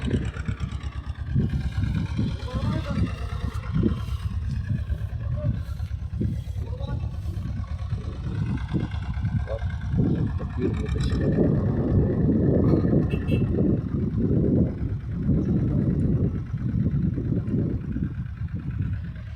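A heavy tractor engine rumbles steadily close by in a field during maize sowing, its low throb joined by gusts of wind buffeting the microphone.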